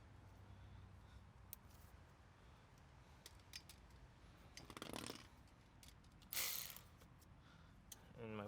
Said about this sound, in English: Then I grab my 1/4-inch ratchet.